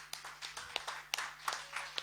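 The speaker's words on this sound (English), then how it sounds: "so give him a clap" A small audience at a community performance event claps for a performer, faint and fairly sparse, with distinct individual claps ringing out at an uneven pace.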